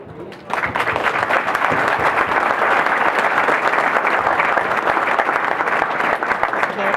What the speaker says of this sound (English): you're the ones that deserve the round of applause